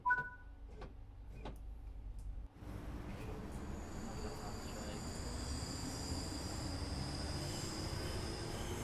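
A simulated ScotRail Class 314 electric train in Train Sim World 4 pulls away after a few brief clicks, then a steady rolling rumble with a faint high whine continues at low level.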